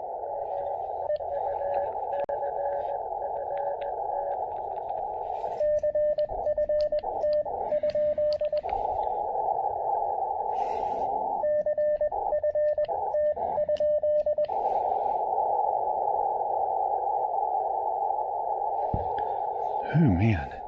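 Morse code CQ call on amateur radio: steady keyed tone bursts in rhythmic dits and dahs over a constant band hiss, with a second tone pattern overlapping midway, fairly clear and close.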